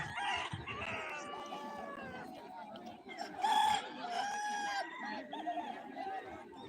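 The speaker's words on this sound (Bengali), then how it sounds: "মেলা মুরগি নিয়ে সবাই চলে এসছে মোরগ লড়াই হচ্ছে" Several roosters crow and hens cluck amid an outdoor crowd at a village Shiva Gajan fair with cockfighting, people chattering in the background, the calls overlapping at moderate distance.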